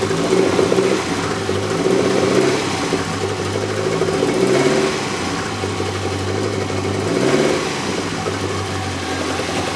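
A 1983 Volkswagen Rabbit GTI engine idles with a steady low hum, swelling slightly in two brief surges before settling back to an even rumble.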